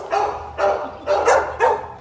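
Tex, a dog at an animal shelter, lets out four sharp barks in quick, fairly even succession, close and loud against a quiet indoor background.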